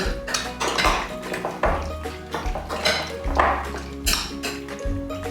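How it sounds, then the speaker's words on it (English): A spoon clattering around inside a bowl, near and fairly loud, with repeated ringing metallic clinks and knocks in an uneven rhythm and low resonant tones between strikes. "we're just going to give the bowl a little stir here"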